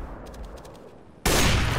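A quiet stretch with faint rapid clicks, then a sudden loud burst of gunfire in CS:GO erupts and keeps blasting.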